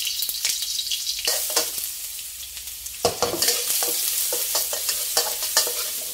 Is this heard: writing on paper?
no